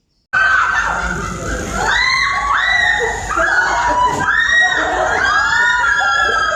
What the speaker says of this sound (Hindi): आपने सुना इनकी चीखें।